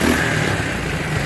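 An ATV engine with a newly replaced carburetor idles steadily up close, a continuous rough, ticking mechanical drone with no talking.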